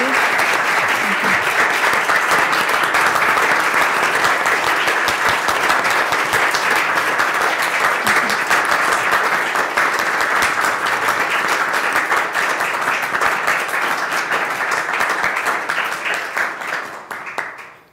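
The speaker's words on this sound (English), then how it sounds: "give a big round of applause to Professor Keller and our panelists today" Sustained, dense applause from a lecture audience honoring a professor and panel after a climate change and human rights prize lecture, steady and loud throughout before tapering off at the very end.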